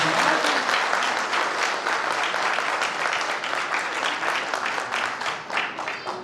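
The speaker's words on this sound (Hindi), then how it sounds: "इस अति उत्तम उद्बोधन के लिए एक बार जोरदार तालियों से" An audience at a speech event breaks into sustained applause after an address, dense continuous clapping from many hands that holds steady for several seconds and tapers slightly at the end.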